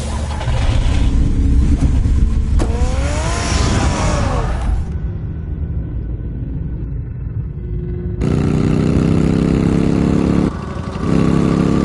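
A car engine revs in Batman: The Telltale Series, loud and close: a steady roar climbs through a rising whine, drops away to a quieter idle, then surges back to full revving.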